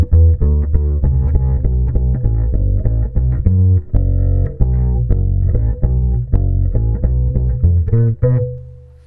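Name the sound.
Cecilio electric upright bass through compressor with limiter on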